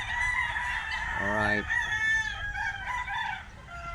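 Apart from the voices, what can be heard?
chickens and roosters crowing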